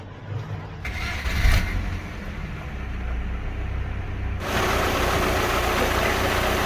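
A Rover K-series car engine just after an oil service starts and settles into a steady idle, heard close and fairly quiet. A rising mechanical hiss joins partway through, and nobody speaks.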